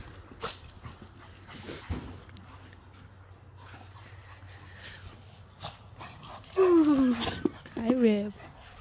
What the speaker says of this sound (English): He's such a happy dog.